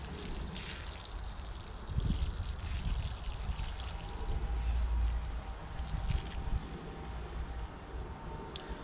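Water pours steadily from a container into a pumpkin bed in a garden, about seven litres, a continuous splashing and gurgling stream that swells and eases over several seconds, with no talking.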